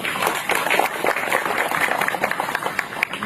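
Audience applause for a West Javan governor at a religious gathering, dense and steady crowd clapping throughout, fairly close and loud, with a faint voice mixed in.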